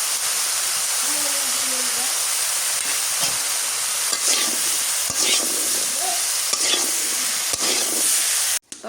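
Curry with garlic paste and turmeric sizzles steadily in a pan on a village kitchen stove, a constant frying hiss broken by occasional scrapes of stirring and a clatter at the end.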